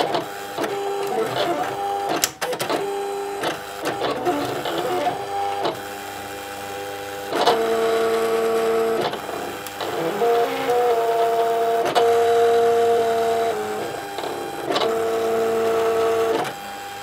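A Silhouette Cameo cutting machine cuts out a shape with a continuous whirring motor drone, shifting tones and mechanical clicks as the blade carriage moves back and forth. It is close and steady throughout, with no talking.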